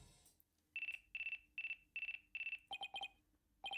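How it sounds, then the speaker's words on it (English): In the video game Ace Attorney Apollo Justice, a phone rings: a run of steady electronic beeping pulses in quick bursts, then a faster trilling ring, clear and alone. "Looks like I have a phone call."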